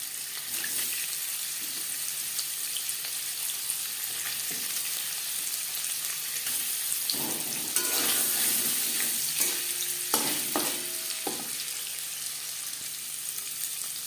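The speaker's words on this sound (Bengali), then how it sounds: "তেল গরম হয়ে গেছে এবার দিয়ে দেবো টুকরো করে কেটে রাখা পনির" Cut paneer pieces frying in hot refined oil in a pan, a steady close sizzle throughout with a few brief clinks and stirring knocks toward the end.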